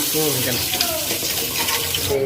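Hot water is poured into a cooking pot, a steady close splashing gush that runs continuously for a couple of seconds, with a voice briefly over it.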